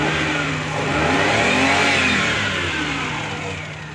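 A car engine with a rough throttle body revs up and settles back, the steady mid-range drone swelling and falling slightly unevenly, close and loud.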